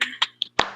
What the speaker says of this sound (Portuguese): a gente pode tentar uma salva de palmas aí